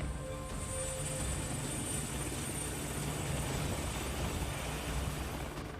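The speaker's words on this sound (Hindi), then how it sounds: "एयरक्राफ्ट कैरियर से लगातार विमान उड़ान भर रहे हैं।" Military jet aircraft launching from an aircraft carrier at sea during naval drills, a steady loud broadband engine roar that fills the whole stretch without pause.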